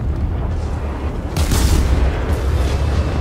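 Warship naval gunfire and shell explosions from World of Warships boom in a heavy, continuous rumble, with a louder burst of blasts midway that keeps rolling on loudly with no talk over it.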